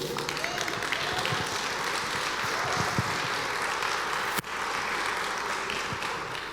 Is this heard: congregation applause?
yes